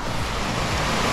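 Waterfall at Cathole Falls in the Kilkenny area of Ireland, a dense, continuous rushing roar of falling water with no voices.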